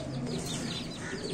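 An Aseel hen clucks softly among high, rapid peeping of her chicks, close and steady with no talk.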